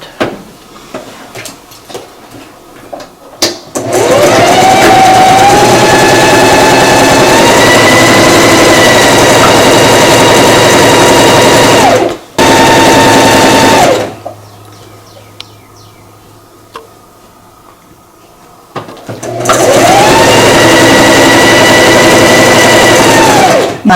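Domestic sewing machine stitching a Christmas stocking all the way around its seam, a loud, steady motor whir with rhythmic needle hum running in long bursts, stopping briefly twice before starting up again.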